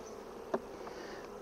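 Honeybees at a hive during a nucleus split into a mating box, heard as a soft steady hum of many wings close by, with one brief louder buzz as a single bee passes near.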